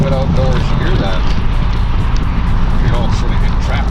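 A C4 Corvette's engine rumbles steadily from inside the car while driving, a loud continuous low drone with faint voices in the cabin.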